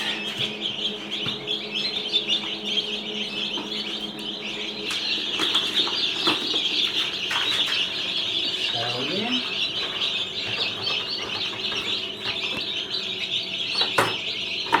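Newly hatched chicks, a batch of over a hundred, chirp in a dense high continuous chorus close by, with occasional wing flutters and handling knocks, and people talk at times.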